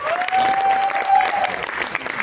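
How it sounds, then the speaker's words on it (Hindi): An audience at a film trailer launch applauds in a steady, dense round of clapping, with a faint tonal whine running through the first part. "एक बार जोरदार तालियां हो जाएं।"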